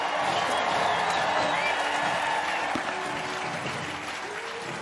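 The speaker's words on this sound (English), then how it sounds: "I hope you can hear some of the crowds who are going crazy for all of these entries" Large outdoor crowd at the Rose Parade applauding and cheering for a float, a dense, continuous roar of clapping with scattered whoops, easing slightly toward the end.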